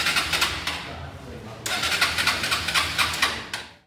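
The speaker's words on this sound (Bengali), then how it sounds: "তো বাইকের সাউন্ড কোয়ালিটি আপনাদেরকে দেখে দেবো।" A used motorcycle with about 5,856 km on it is started and revved up close, its engine firing into a loud, rough running note with repeated throttle surges.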